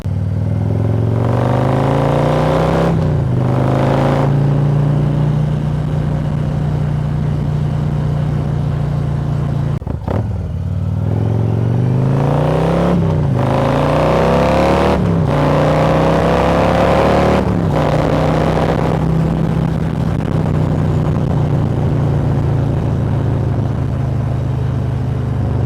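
A 2022 Harley-Davidson Street Glide with the 131 engine on a test ride, its loud, steady V-twin drone rising and falling through several gear changes and throttle swells, close and continuous with no talk.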